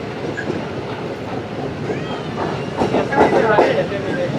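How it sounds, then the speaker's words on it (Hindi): A goods train rolls past on wet, flooded track in heavy rain in Sindh, giving a steady broadband rumble with wheel clatter and faint squeals that swell louder toward the end. "G40 तो नज़र आ रहा है, और मुझे गुड्स ट्रेन ही लग रही है भाई।"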